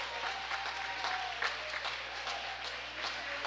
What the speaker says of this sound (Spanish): nos paramos hoy para darles un gran aplauso a la Nación Hapa